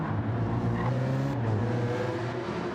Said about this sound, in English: So he's shifting very low in the revs.